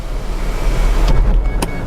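The electric sunroof of a Mitsubishi Outlander Exceed ZK 4WD hums as it motors closed inside the car, ending in a couple of short mechanical clunks, loud and close with no talk.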